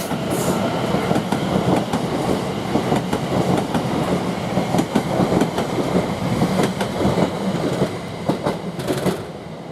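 A Class 720 train passes at Shenfield railway station, its wheels clattering over rail joints with a loud, continuous rumble and rhythmic clicks close by.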